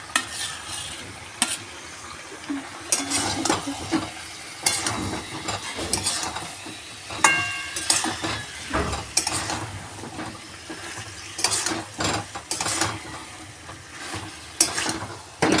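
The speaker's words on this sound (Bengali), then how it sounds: "একটু মশলার সঙ্গে আগে চিকেনটা একটু আমি কষিয়ে নিচ্ছি।" Chicken pieces sizzling in oil with spices and tomato in a pan, stirred steadily with repeated scraping clinks of a spatula against the metal, close and continuous with no talking.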